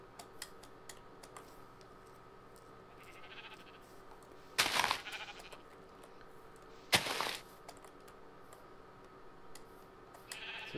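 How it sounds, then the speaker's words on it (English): Sheep bleats from the game Minecraft sound faintly over steady soft keyboard tapping and clicking, and two sharp loud bursts cut in partway through. "We're going to kill a sheep."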